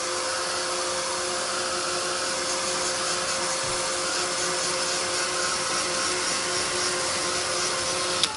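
A hair dryer blows steadily at close range while drying a craft project, its broadband whirring roar holding an even level throughout with no talking.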